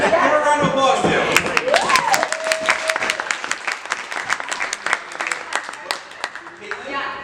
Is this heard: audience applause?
yes